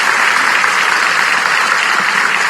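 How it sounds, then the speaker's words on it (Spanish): Audience at a Guatemalan presidential candidates' forum giving the candidates a loud, sustained round of applause, dense even clapping that holds steady with no talking over it. "por favor, un fuerte aplauso para ellos, al público presente"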